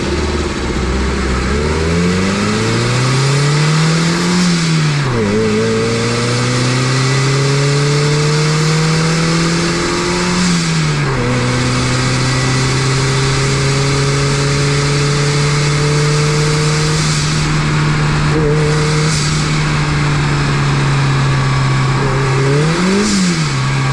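A Wagon R Wide engine heard up close from inside the engine bay revs up repeatedly through several gear pulls, each rising drone cut by a brief dip before climbing again; loud and continuous, with no talking.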